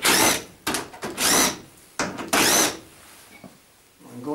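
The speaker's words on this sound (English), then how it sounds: "Now we need to undo the bolts on the side." A power tool whirs in several short bursts while undoing bolts on the side of a Zanussi vented tumble dryer, loud and close with brief pauses between spins, then quieter handling noises.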